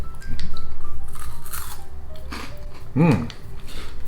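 Crisp chocolate-covered corn puff snack from a Japanese snack box being bitten and chewed close to the microphone, several sharp crunches with a loud bite near the end.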